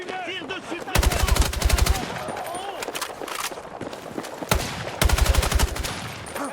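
Loud automatic gunfire rattles in rapid bursts during a Battlefield 6 campaign firefight, with two long volleys and scattered single shots, while voices talk over the action.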